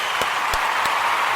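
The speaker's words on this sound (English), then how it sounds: "I want to give y'all a round of applause" Audience applause at a live talk event, a steady wash of clapping throughout with a few sharper loud claps standing out near the front.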